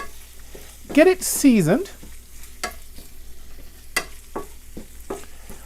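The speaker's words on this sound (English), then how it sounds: "Just stir this in," Seasoning blend with chipotle pepper stirred into browned beef in a pan for queso dip, a soft scraping stir with light sizzle under a voice that speaks briefly and then trails off.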